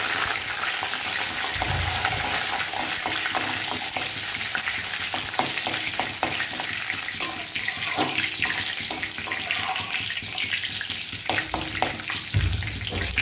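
Whole cumin, bay leaves and dried chillies crackle and sizzle in hot oil for chicken kosha, a continuous close hiss broken by scattered pops and occasional scraping stirs of a spoon in the pan.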